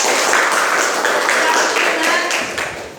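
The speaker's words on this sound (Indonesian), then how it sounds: "Tepuk tangan dulu nak." Children in a classroom clap their hands together in a steady, dense patter lasting about three seconds, with some chatter mixed in.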